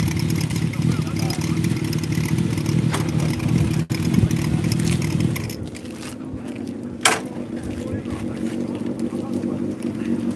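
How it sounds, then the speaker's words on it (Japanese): Old Honda CBX motorcycle started and idling at a classic bike meeting at a lakeside park in Tokushima, a steady mid-range engine rumble under background chatter, with a sharp knock partway through. "ちょっと前に出してエンジンかけてもらいます。"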